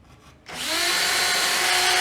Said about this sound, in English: And then with our 1-inch drill bit,